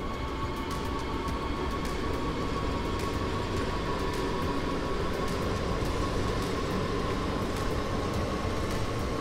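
Steady, continuous running noise of a BR 422 electric commuter train in Train Sim World 3 on the S9 line near Wuppertal, a constant hum and rail roar with a faint tonal whine and no talking.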